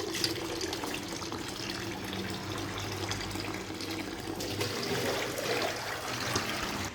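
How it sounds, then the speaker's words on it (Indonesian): Tap water runs steadily and splashes over papaya leaves being washed, with a continuous gushing rush and some faint handling sounds, no voices. "Dicuci di bawah air mengalir sampai 3 kali, buang airnya"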